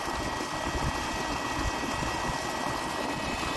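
A 1300-watt solar-powered water pump runs on two 505-watt panels while watering, giving a steady, continuous mechanical hum and rumble at moderate level, with no talk.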